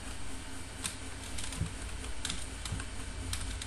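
Quiet, rapid keystrokes on a computer keyboard while a folder name is typed, soft irregular clicks over a low background hum.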